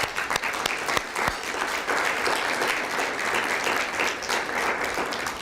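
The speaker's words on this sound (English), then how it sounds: "Let's give them a round of applause." An audience at the STRIVE 2016 school banquet gives a round of applause, a steady crowd of clapping with a few sharp, close individual claps standing out, moderately loud throughout.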